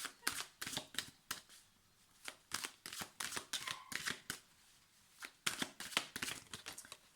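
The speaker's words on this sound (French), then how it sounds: "Alors, je vais recouvrir les cartes." Tarot cards shuffled and laid down in quick, soft papery flicks and taps, close and faint, in uneven bursts with short pauses, no talk.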